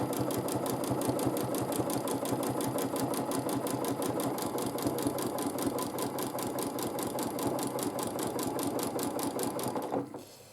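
Sewing machine stitching the sashing of a quilt, a fast, even mechanical chatter of needle strokes running steadily and close for about ten seconds before stopping.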